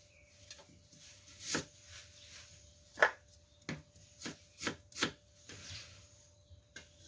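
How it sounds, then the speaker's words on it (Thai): A knife chops an onion repeatedly on a cutting board, crisp irregular taps that bunch into a quicker run near the end, over a faint steady hum. "อันดับแรกเราก็จะมาลงมือหั่นหอมใหญ่กันก่อนนะคะ"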